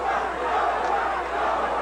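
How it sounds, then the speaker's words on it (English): A fight crowd at the John Duplessis vs Anthony Williams bout yells steadily, with New Orleans fans backing Super D and Philadelphia fans shouting for Cobra. The roar is dense and continuous. "The 70 or 80 folks that came up here from New Orleans yelling Super D, and some of the Philadelphia crowd, they're nearby yelling Cobra"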